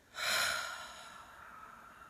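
A slow exhale during guided relaxation, a soft close breath out that swells quickly and then trails away into quiet, with no speech over it.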